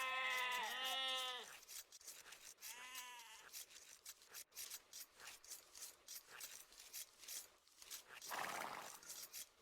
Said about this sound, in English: That's 2 sheep bonus for Palo Santo.